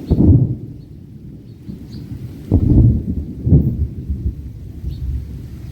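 Deep thunder rumbles during a rainstorm over a village, rolling in several heavy booms with quieter grumbling between them.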